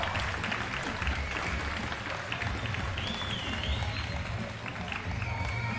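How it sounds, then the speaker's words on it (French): Crowd at an amateur scooter riding contest final applauding for rider Romain Daguizan, a steady wash of clapping and crowd noise over a low rumble, with a whistle sliding through the middle. "Applaudissements pour Romain Daguizan"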